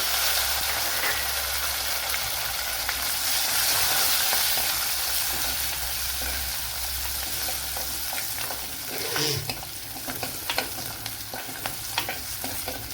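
Garlic cloves and curry leaves frying in hot oil in a pan for Tamil-style garlic kuzhambu, giving a steady close sizzle with stirring clatters toward the end and no talking.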